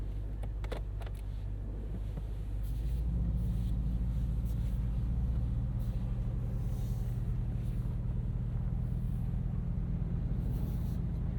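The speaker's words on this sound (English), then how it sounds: "maiden voyage here in the Continental GT" A 2023 Bentley Continental GTC Azure convertible drives along with a steady, low engine rumble that swells slightly as it gets underway, heard from inside the car with faint clicks at the start.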